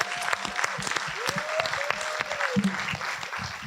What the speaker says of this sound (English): let's give a huge round of applause to this incredible team